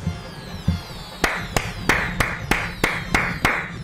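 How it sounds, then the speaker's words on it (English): Steady hand clapping, about eight sharp claps at an even pace, close and crisp after a brief quiet start, during Super Mario Maker 2 gameplay. "Round of applause for that guy"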